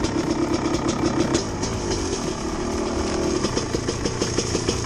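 A dirt bike engine idles steadily on a fall ride, a loud continuous rumble with a busy mechanical chatter that holds level throughout, with no voices over it.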